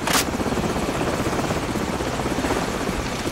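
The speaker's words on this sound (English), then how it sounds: "Hold on, the helicopter's back." A helicopter in the Call of Duty 4: Modern Warfare mission "Hunted", its rotor a loud, continuous chopping roar that stays close and steady throughout, with no speech.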